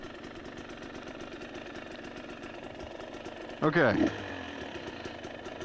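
Motorcycle engine idling with a steady, low, rapid pulse, briefly interrupted by a short louder burst and a single spoken word.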